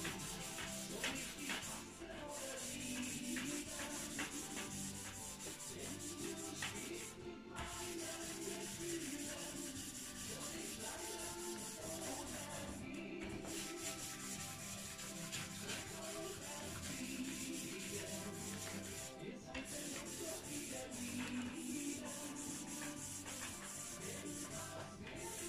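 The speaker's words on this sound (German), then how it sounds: "nehme ich hier noch einmal die Schleifwolle" Steady scratchy rubbing of steel wool polishing a model railway platform, continuous back-and-forth strokes with brief pauses every few seconds, close and moderately loud.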